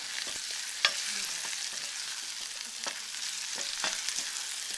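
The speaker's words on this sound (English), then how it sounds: "Now we're just going to cook that onion long enough to start browning the white stuff in it" Chopped green onion fries and browns in a pan with a steady, bright hiss of sizzling, broken by a few soft clicks and scrapes of stirring nearby.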